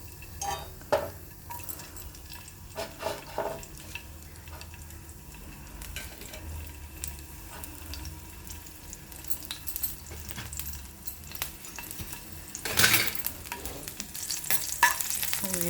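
Cumin and garlic sizzling in hot oil while being stirred, with a continuous close frying hiss, scattered utensil scrapes and clinks, and the sizzle swelling louder toward the end; no one speaks.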